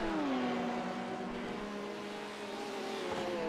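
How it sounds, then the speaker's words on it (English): LMP2 and GTE race cars sweep past during the 24 Hours of Le Mans, a continuous engine whine sliding down in pitch as they go by, moderately distant under a steady rumble. "You can just see the LMP2's coming by, and the GTE's following up behind them."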